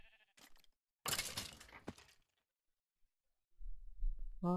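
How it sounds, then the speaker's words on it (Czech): Sheep bleating in the Minecraft video game, two short game-sound bursts with a louder, broader cry in the middle, then a low rumbling noise near the end. "tady jsou ovce"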